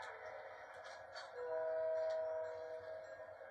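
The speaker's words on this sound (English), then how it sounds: "Oh, the train." A video game train rumbles steadily past, its sustained horn tone swelling and fading across a few seconds.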